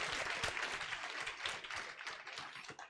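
Students in an audience at a student program clap together in a steady, moderately loud wash of applause with dense overlapping hand claps, continuous for about three seconds.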